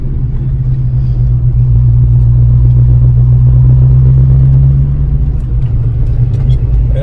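A 1988 Ford Mustang GT with a 5-speed drives gently through a residential neighborhood, its engine giving a loud, close, steady low rumble that swells slightly and then eases toward the end.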